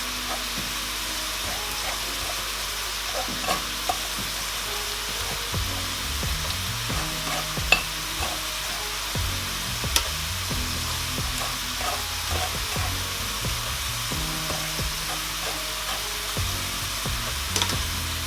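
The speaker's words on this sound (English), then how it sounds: "Immediately the sauce hits the oil, I can perceive the pepper." Jollof rice pepper sauce sizzles steadily in hot oil, a constant close frying hiss, while a spoon scrapes and stirs the pot in occasional clinks and knocks.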